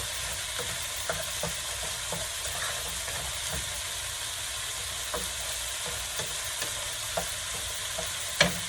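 Fried rice sizzling steadily in a pan as soy sauce goes in, a constant close hiss of frying with occasional light taps and scrapes of a utensil, no voices.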